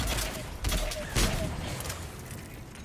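Mass Effect 3 gunfire rattles in a quick burst of close shots during the first second or so, with someone talking over it.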